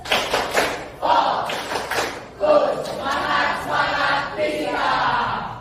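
A classroom of children doing the rhythmic 'tepuk fokus' focus clap led by their teacher, with bursts of clapping and chanted voices in a loud, lively group pattern across several seconds.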